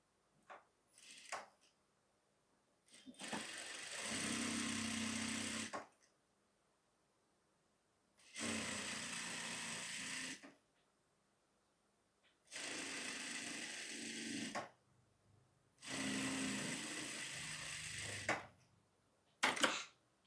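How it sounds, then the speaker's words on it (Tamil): A sewing machine stitches a folded blouse hem in four loud, steady runs of several seconds each, separated by quiet pauses, with brief starts at the beginning and end. "இப்போ நம்ம 1/2 இன்ச்சில் மடித்து ஸ்டிச் பண்ணிவிட்டு அந்த லைனில் கரெக்டாக நம்ம இந்த மாதிரி மடித்து ஸ்டிச் பண்ணணும்"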